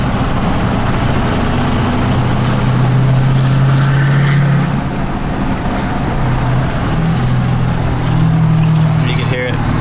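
A Ford 6.7 Powerstroke diesel truck towing a drift car, its engine droning low and loud from inside the cab, pitch dipping and rising as it shifts down, with talk over the rumble.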